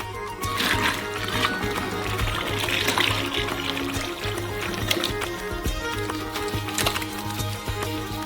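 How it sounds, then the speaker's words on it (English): Melted palm oil mixed with sugar is poured into basins, a continuous splashy, gurgling stream running for several seconds at close range. "Here we also pour melted palm oil with sugar."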